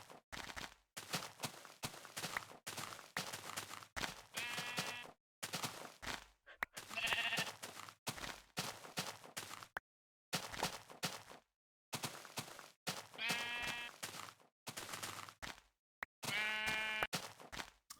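Sheep in a video game bleat again and again in short quavering calls spaced across a busy stretch of game sounds, some bleats louder and closer than others, with no talking.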